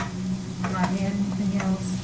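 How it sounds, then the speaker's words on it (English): Vegetables sautéing in a pan for a crab stir fry, a short burst of steady close sizzling with a couple of light stirring touches and no speech. "I'm going to let those vegetables saute a little bit"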